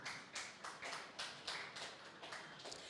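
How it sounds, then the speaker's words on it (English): A small indoor audience at a talk event claps in a loose, sparse rhythm, with a handful of distinct claps recurring every third of a second or so, fairly close and quiet, with no talk. "Let's clap for them."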